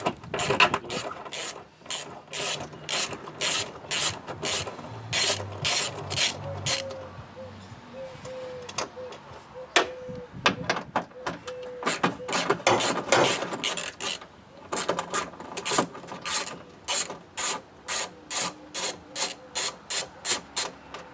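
A ratchet wrench works 12 mm bolts on a 1999 Toyota Tacoma engine bay during mass airflow sensor replacement, making rapid rhythmic clicking bursts that repeat steadily close up, with faint creaks between strokes and no talking.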